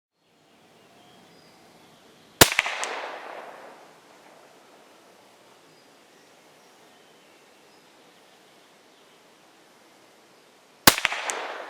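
Two sharp, loud shots from a Huben K1 air rifle, about eight seconds apart, each a crisp crack with a brief decaying tail, over a light background hiss of outdoor wind.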